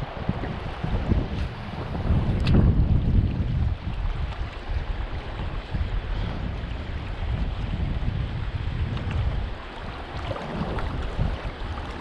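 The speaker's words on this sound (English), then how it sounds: "Creek's looking really good, has a nice flow to it and a slight stain." Creek water flows steadily through a trout stream, a continuous rushing wash close to the microphone, with some wind buffeting and no voices.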